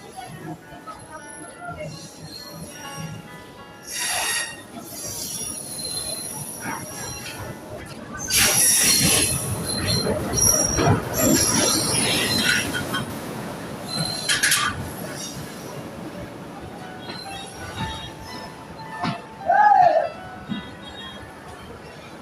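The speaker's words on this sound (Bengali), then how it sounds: "যে ট্রেনটির অপেক্ষা আমরা এতক্ষণ ছিলাম এখন সেই ট্রেনটি আমাদের কাছাকাছি চলে আসছে" A passenger train on a Bangladeshi rural line rolls into a station platform, its rumble building to a loud, grinding peak with metallic wheel squeals and brakes, then easing off as people talk nearby.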